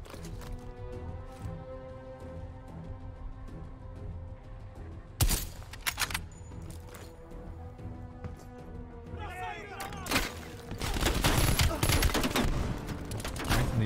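Grenades and gunfire in the video game Call of Duty: Black Ops Cold War: scattered shots, then sharp explosive blasts and dense bursts of fire that intensify toward the end, with a player talking over the action.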